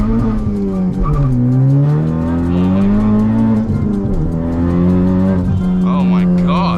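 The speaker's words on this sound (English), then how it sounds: "I will give a slight launch for a little tire test here." A Honda Civic Type R (FK8) engine revs hard and loud on launch, with a wavering squeal of Continental ExtremeContact Sport tires spinning and faint sounds at the end.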